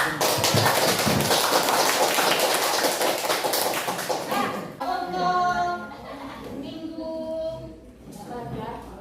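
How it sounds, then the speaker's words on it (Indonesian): Students in a classroom clap together in a brief scattered round of applause lasting about four seconds, followed by children's voices talking and chattering. "Tepuk tangan."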